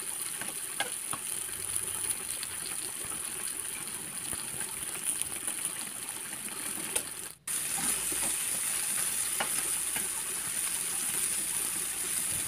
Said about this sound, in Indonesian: Sudah mendidih seperti ini ya.